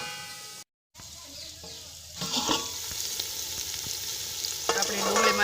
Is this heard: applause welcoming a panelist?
no